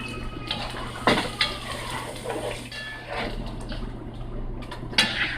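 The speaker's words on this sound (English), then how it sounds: "And then you just want to mix that around." A spoon stirs chicken in a dish with added water, garlic and seasoning salt, giving soft scraping and clinking against the dish, with a couple of sharper knocks near the start and end.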